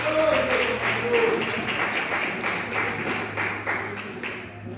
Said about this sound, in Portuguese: Vamos aplaudir a palavra de nosso Deus.